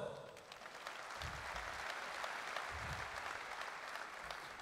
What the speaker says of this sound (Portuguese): uma salva de palmas, Hugo Sousa.